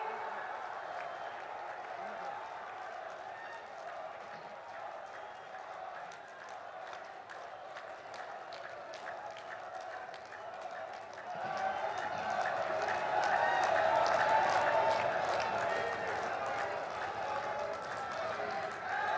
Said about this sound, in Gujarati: આવો જોરદાર તાળીઓના હર્ષનાદ સાથે આવકારીએ